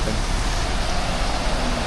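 Rain falls steadily over Paris, a dense, even hiss filling the short stretch without pause or voices.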